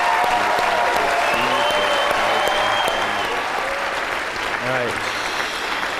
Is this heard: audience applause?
yes